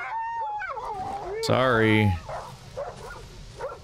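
Dog whimpering and yelping in the horror game Darkwood, a loud strained whine with a short burst around the middle, heard under someone talking over it.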